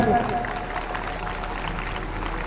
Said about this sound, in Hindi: जोर से ताली, बहुत जोर।